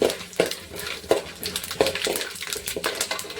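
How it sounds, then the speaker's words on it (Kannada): Cumin and mustard seeds frying in a pan give a light crackle and sizzle, with spoon scrapes and taps against the pan at a steady stirring rhythm, close by. "ಅದಕ್ಕೆ ಜೀರಿಗೆನ ಹಾಕ್ಕೊಳ್ತಾ ಇದ್ದೀವಿ, ಅದ್ರ ಜೊತೆಗೆ ಸಾಸಿವೆ ಕೂಡ ಹಾಕ್ಕೊಳ್ತಾ ಇದ್ದೀವಿ. ಆಮೇಲೆ ಚೆನ್ನಾಗಿ ಫ್ರೈ ಮಾಡ್ಕೊಳ್ಳಿ ಫ್ರೆಂಡ್ಸ್"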